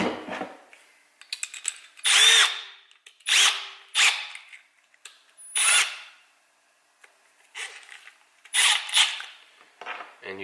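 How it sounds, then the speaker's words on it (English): A Milwaukee M12 FUEL 1/2-inch hammer drill whirs in several short bursts of a second or so each, separated by pauses, loud and close with no talking. "when I was using the regular drill"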